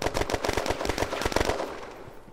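Rapid bursts of automatic gunfire in the online shooter game Red Crucible: Firestorm, loud and dense rattling shots with a brief tail fading at the end.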